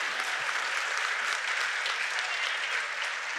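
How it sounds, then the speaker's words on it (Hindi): Strong applause from an audience at a youth poetry gathering of a literature festival, a dense, even wash of clapping with no talk. "एक बार सच में जोरदार तालियां हो जाए।"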